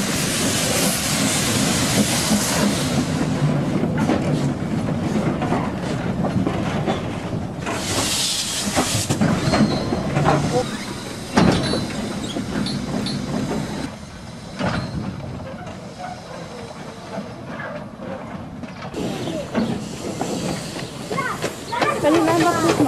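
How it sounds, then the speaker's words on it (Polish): A Px38 narrow-gauge steam locomotive from Żnin hisses and chuffs while shunting, uncoupling a covered goods wagon to couple a passenger train, with bursts of steam, clanking couplings and rolling wheel clicks, heard close by. "Do zdjęć żniński parowóz pozował ciągnąc kryty wagon towarowy."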